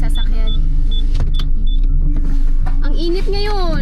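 Inside a dusty car, the engine hums and cabin noises click and whir as a power window seems to move, with a voice speaking briefly under the steady drive.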